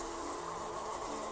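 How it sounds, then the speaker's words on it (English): Honeybees buzzing steadily around a honey tree outdoors, a continuous droning hum held close and even for the whole moment, with no voices. "There should be honey here because there's honeybee, and honeybees produce honey"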